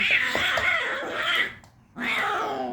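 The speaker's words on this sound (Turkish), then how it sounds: "Bu zaten sürekli bağırıyor." A kitten, blind and unable to walk, cries loudly indoors at home in two long, strained wails separated by a brief pause, close and harsh, with no talking.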